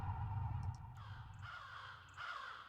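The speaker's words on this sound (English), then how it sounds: "More crows." Sampled crow caws repeating in a sound-design mix, several harsh calls over a low rumbling bed, fairly faint and processed.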